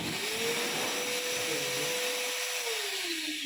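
A household vacuum cleaner runs steadily in blow mode, a loud continuous motor whine that holds level throughout and dips slightly in pitch near the end, with no talking.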